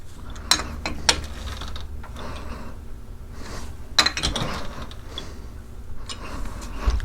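Hand tool tightening a fastener on a rear axle bearing retainer, a few sharp metallic ratchet clicks and clunks spaced unevenly over a low workshop background.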